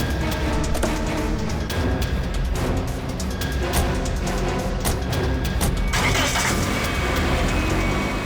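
A car engine starts and the vehicle pulls away in a CID crime drama scene, engine noise running throughout and rising near the end.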